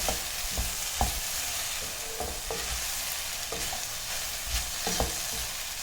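Okra sautéing in a pan for a South Indian dry side dish gives a steady, close frying sizzle, broken by irregular spatula scrapes and knocks against the pan as the pieces are stirred.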